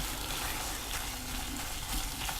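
Homemade barbecue sauce simmers and sizzles in a pan while being stirred continuously, a steady, close, even crackle and hiss with no voices over it.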